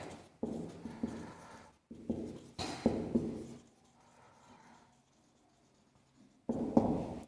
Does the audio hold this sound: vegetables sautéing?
no